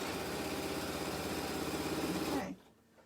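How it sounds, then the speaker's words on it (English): A sewing machine runs steadily while stitching quilt patches, a close, even mechanical hum that stops abruptly near the end. "I start sewing."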